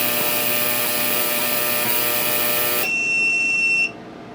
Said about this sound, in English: And a beep, and it turns off.